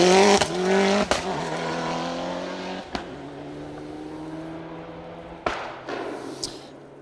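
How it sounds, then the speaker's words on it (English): Mitsubishi Evo 10 rally car on a stage at the Carlisle Stages Rally, passing close with a loud, revving engine and sharp gear changes, then fading into the distance before another burst of engine noise. "Car 62, that's the Mitsubishi Evo 10 of Ernie and Anna Graham"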